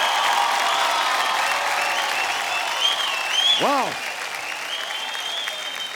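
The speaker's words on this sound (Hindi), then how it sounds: "भाई इसी के साथ जोरदार तालियों से हमारी गुरु स्नेहा के लिए भी जोरदार तालियां होनी चाहिए।" Applause from a studio audience at a folk singing reality show, steady and fairly loud throughout, with a brief exclaiming voice and some crowd cheering mixed in.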